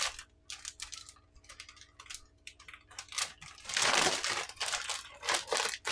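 A plastic zip-lock bag holding beef marinade is crinkled and mashed by hand, giving close, irregular crackling bursts that grow louder and denser partway through.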